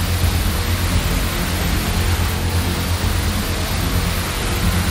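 Heavy rain pours down with water rushing over temple steps, a steady, dense roar that holds at the same level throughout with no voices.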